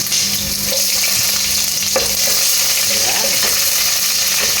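Garlic and onions sauté in a pan with a loud, continuous sizzle, while occasional stirring scrapes sound through it close up.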